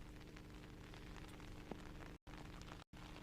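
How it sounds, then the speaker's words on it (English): Rain falls steadily during a night stage of the Mull Rally, a dense, even patter that continues almost without a break and with no voices over it. "we have rain challenging us with our technical equipment"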